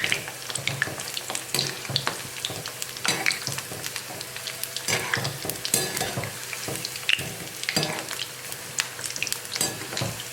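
Maggi vegetable pakoda deep-frying in hot oil while being turned, with a steady sizzle and bubbling broken by irregular scraping and clinking of the ladle as the fritters are flipped.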